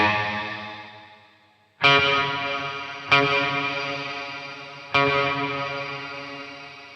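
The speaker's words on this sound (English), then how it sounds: "So you can hear the shimmer in there." Electric guitar through a Matthews Effects Orion pedal set to shimmer: three struck chords ring out into sustained, glistening pitch-shifted reverb tails that slowly decay, clean and alone with no talking.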